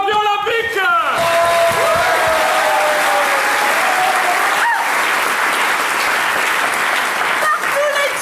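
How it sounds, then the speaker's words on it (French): An audience applauds a newly crowned Olympic champion, a loud sustained wash of clapping from start to finish with a few cheers mixed in and a voice speaking over the opening seconds. "veuillez applaudir votre nouveau champion olympique."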